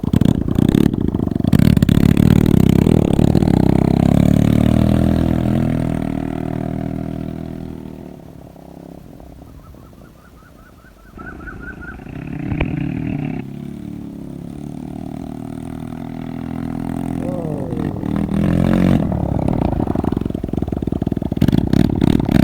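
A modified Honda Dio scooter engine on a ride, loud and droning close up, easing off and dipping quiet midway, then climbing back to a steady roar.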